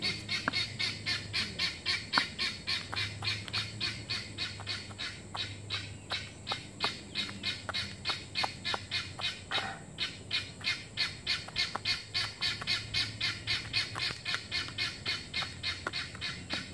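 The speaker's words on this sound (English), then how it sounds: "They're so great, those guinea fowls, they're calls. They're noisy." Guinea fowl call loudly and continuously outdoors in a rapid, rhythmic series of harsh, repeated cackling notes, with a low hum running steadily underneath throughout.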